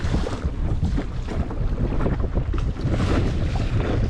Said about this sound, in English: if she can handle this sort of chop and this sort of wind and fight against the wind and against the current